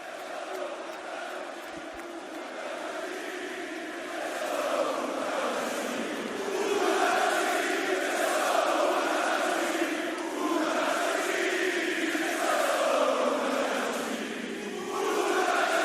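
A large European WWE SmackDown crowd roars and cheers continuously, swelling into rhythmic chanting waves that build louder toward the middle and stay sustained throughout.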